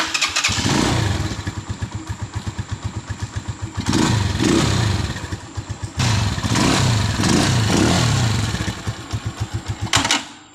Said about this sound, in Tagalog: Ang lakas ng lagapak niya sa kanyang makina mga Kaloks.